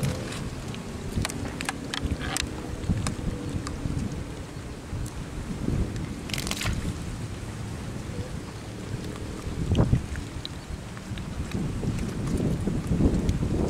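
Steady wind rushes across open water at a fishing spot, a constant broadband buffeting of the microphone with occasional gusts and small knocks, with no voices.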